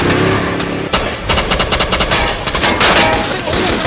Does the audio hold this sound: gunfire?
yes